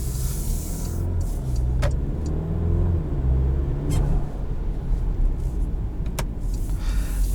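A 2022 Porsche Macan, the base non-S model, driven in sport mode, gives a steady low engine rumble with road noise inside the cabin and a few brief faint clicks over the drone.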